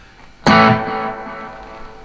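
Electric guitar through a Boss delay pedal into a Fender Tone Master amp: a single loud struck chord rings out and decays smoothly into a reverb tail, alone.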